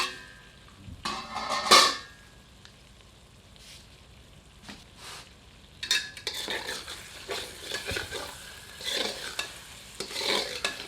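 A ladle stirs chicken curry in a pot, scraping and stirring in short bursts with a soft sizzle underneath, louder early on and steadier toward the end, with no voices.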